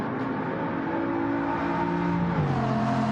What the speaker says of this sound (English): Just listen to that W16 engine. Essentially it's two V8s bolted together.